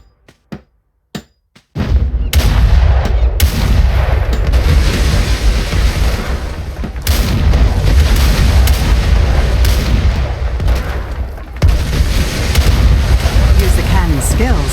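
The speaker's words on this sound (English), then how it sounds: "Sailor, man that cannon and rain steel on those pirates." Ship cannon fire against pirates in the ArcheAge video game: a few sharp bangs, then sustained loud booming battle noise with game voices mixed in.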